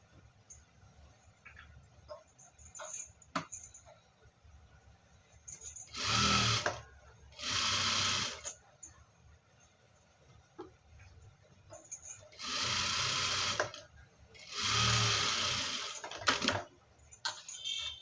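A sewing machine runs stitches along the bottom edge of a garment's lining in three or four separate bursts of a few seconds each, with quiet pauses and small handling clicks between them.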